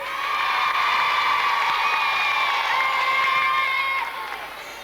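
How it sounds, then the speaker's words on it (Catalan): Studio audience in a Catalan TV show cheering and shouting for a climbing champion, a dense steady roar of voices with whoops, loud throughout and easing off near the end. "Un aplaudiment ben fort per a ells"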